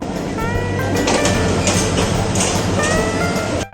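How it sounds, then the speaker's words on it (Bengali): A loud, steady rumble of a train rolling into a station, with squealing metallic tones from the wheels and a constant noisy roar throughout. "অলরেডি উল্টা দিক থেকে একটা ট্রেন চলে আসলো"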